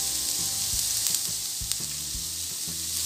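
A chicken pie browns in a frying pan, sizzling in a steady, close hiss throughout with faint stirring scrapes and no voices.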